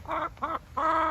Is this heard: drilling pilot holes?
no